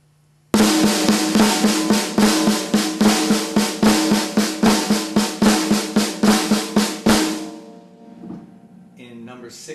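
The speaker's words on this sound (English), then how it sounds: "Another flam rudiment is called a flam accent." Snappy snare strokes with grace notes in a steady, accented flam pattern, played briskly for several seconds, then ending with a ringing crash.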